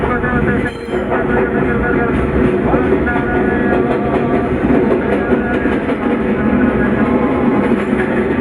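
A performer's simulated New York subway train ride, built as a loud, continuous rumble with rattling clatter that holds steady throughout, with crowd voices mixed in.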